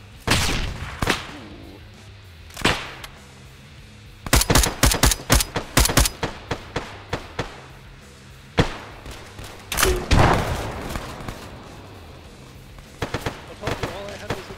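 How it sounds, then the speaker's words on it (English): Bursts of gunfire from the military shooter Arma 3, with sharp repeated shots and automatic volleys in clusters, some close and loud, others thumping farther off, while players talk over the action. "Enemy fire!"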